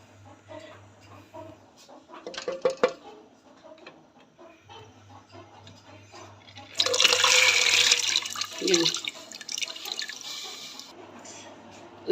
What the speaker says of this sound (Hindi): 2 गिलास पानी के डालेंगे हम भर के